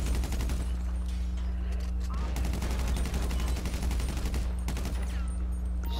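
Gunshots in a GTA 5 roleplay bank robbery on PS4: rapid volleys of shots fire in quick succession, loud and near, over a steady low engine-like drone, with a few sharper cracks toward the end.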